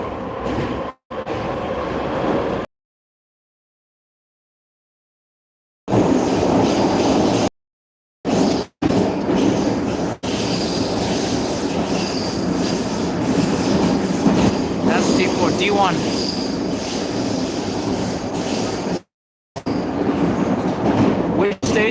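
A Moscow D1 suburban train rumbles along with a steady rolling roar, wheels squealing at moments and rails clicking, interrupted by several abrupt dead-silent gaps.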